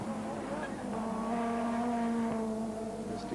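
Dick Johnson's race car at the 1989 Sandown 500 touring car race, engine note holding a steady tone down the main straight at Sandown, loud and close, with commentary speech over it.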